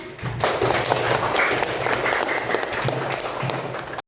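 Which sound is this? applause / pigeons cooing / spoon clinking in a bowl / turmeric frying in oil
applause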